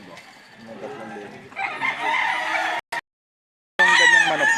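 A gamecock at a fighting-rooster market in Lipa, Batangas crows loudly and close, with clucking before it and more crowing after a brief silent gap. Distant voices sit underneath.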